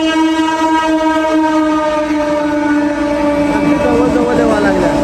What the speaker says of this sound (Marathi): बघा ट्रेन आली